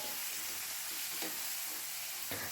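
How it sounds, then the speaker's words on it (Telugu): Three dried red chilies frying in a pan of oil, giving a steady close sizzle throughout with faint stirring scrapes, no talking. "మూడు ఎండుమిర్చి వేసుకున్న తర్వాత ఒకసారి కలుపుకోవాలి ఈ విధంగా వేగితే సరిపోతుందండి"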